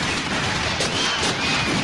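Gunfire from the film The Crow: a loud, dense barrage of shots running continuously without pause, booming and close.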